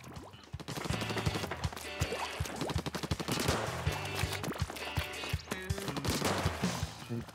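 Ink weapon fire in Splatoon 2, a steady stream of rapid, splattery shots with game music running underneath throughout.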